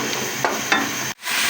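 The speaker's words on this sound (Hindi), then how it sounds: "अब मैंने इसे 4-5 मिनट तक फ्राई कर लिया है" Aloo chicken frying in a pan, a steady close sizzle with a few soft stirring scrapes, then a brief cut to near silence before the sizzle resumes.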